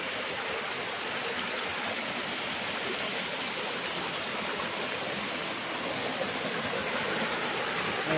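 A small waterfall on a cold-weather bike route toward Paranapiacaba, heard as a steady, close rush of falling water that stays even and unbroken from start to finish, with no voices.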